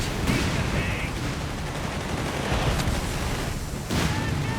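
A Panther tank force firing on infantry in Company of Heroes 3, with dense rumbling gunfire and heavy booms forming a continuous loud battle din. Speech runs faintly under it.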